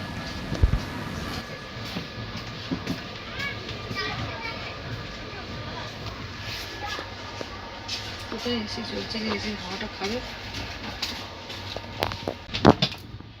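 The East Coast Express 18046 runs on its rails between Hyderabad and Shalimar, a steady rumbling clatter heard from inside the carriage, with children's voices and chatter mixed in and a few sharp knocks.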